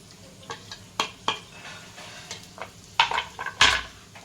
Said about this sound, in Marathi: त्यामध्ये आता आपण एक बारीक कट केलेला कांदा टाकून घेणार आहोत